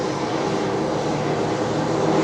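A steady, droning mechanical rumble of a tram line cleaning vehicle working on Melbourne tram tracks, continuous and fairly loud with a low engine hum throughout.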